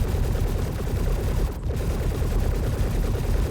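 Ship turret gunfire in the game Star Citizen rattles as continuous rapid fire, loud and close, with a brief pause near the middle before the stream resumes. No talking is heard.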